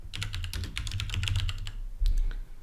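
Rapid keystrokes on a computer keyboard as a search is typed, a steady run of close, crisp clicks with a short pause and then a louder final tap.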